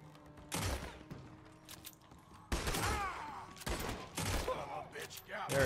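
Gunfire in the video game Red Dead Redemption 2 during a fight in Saint-Denis: several loud bursts of shots, with one around the start and a heavier cluster later, mixed with game sounds and some talk.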